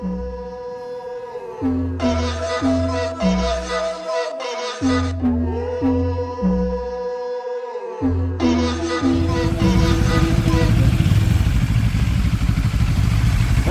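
A Benelli TRK702 motorcycle engine revs up and drops through repeated gear shifts, loud and close, then settles into a roaring, windy cruise.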